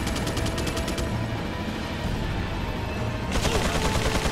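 Minigun fire in the video game Resident Evil 4: a rapid, sustained mechanical rattle of shots opening the burst, then returning after a dense, noisy stretch of game action.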